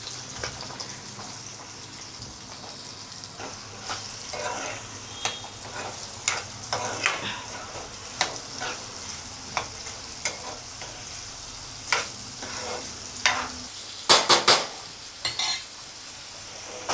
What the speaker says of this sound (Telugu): ఇదే నూనెలా గుడ్లు ఫ్రై అయిన నూనెలో ఉల్లిగడ్డ వేసేస్తున్నా